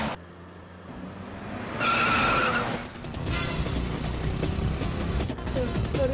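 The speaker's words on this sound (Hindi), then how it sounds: "अरे गाड़ी पीछे कर रहा जल्दी।" A car reverses in a hurry with tires skidding, a loud squeal followed by rough engine and tire noise that carries on to the end.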